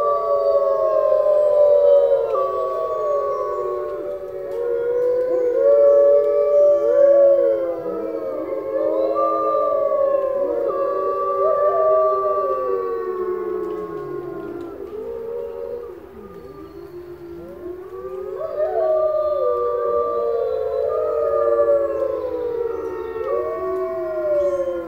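A pack of wolves howls in chorus, many overlapping rising and falling voices sustained loudly and continuously, close and layered, with no talking.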